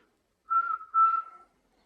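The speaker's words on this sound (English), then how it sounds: "if you give it a couple of whistles" Two short whistles in quick succession, clear and close, with silence on either side.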